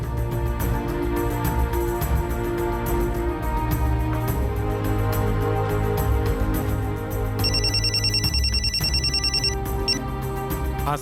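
A telephone rings in a tense television crime drama scene, its electronic ringtone chirping in a rapid repeating burst over loud background music and dramatic score.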